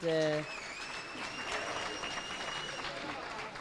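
An audience applauds after a SAPS director's overview at a youth discussion event. The clapping is moderate and steady, following a brief voice at the start.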